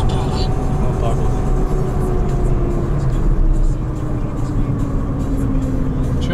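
Car driving and turning, heard from inside as a loud, steady engine hum and road rumble with a slight dip near the middle, with voices in the cabin.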